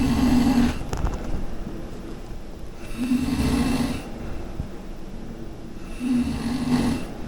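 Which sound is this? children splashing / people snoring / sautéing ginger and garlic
people snoring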